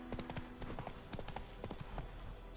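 Hooves of Roach, the horse in The Witcher 3: Wild Hunt, clip-clopping in a quick, even rhythm of close, crisp hoof strikes over a soft low background, no speech.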